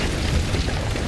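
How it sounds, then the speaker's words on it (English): Ship cannon fire in the video game Sea of Thieves, a brief muffled boom with a rumbling low burst heard at moderate distance, no voices over it. "They're both on cannons right now."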